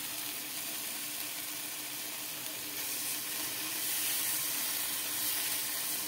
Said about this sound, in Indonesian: di sini saya tambahkan e, irisan bawang bombay.